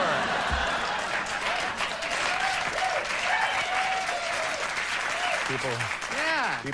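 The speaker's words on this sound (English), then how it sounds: "people applauding" A late-night talk show studio audience applauds loudly and continuously for several seconds, with voices talking and exclaiming over the steady wash of clapping.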